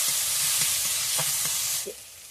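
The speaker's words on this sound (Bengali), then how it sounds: "টমেটোটাকে ভেজে নেব।" Chopped tomatoes fry in a hot pan alongside chopped onion and green chilli, giving a loud, steady sizzle with a few soft stirring taps, fading slightly near the end; no talking.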